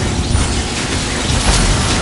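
An Incendio fire spell is cast in Hogwarts Legacy, a loud burst of roaring, crackling flame that fills the whole moment with dense, churning noise and a few sharper pops.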